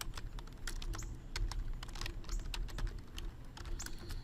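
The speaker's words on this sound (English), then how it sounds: "So I'm going to type in canned." Fingers tap rapidly on a computer keyboard, close up, in quick uneven bursts of clicking keystrokes with short pauses, over a low background rumble and no speech.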